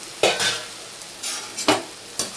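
Green chillies and curry leaves are stirred in a frying pan for a paneer curry, a spoon scraping through the sizzling mixture in a few short strokes over a steady close fry, with no voices.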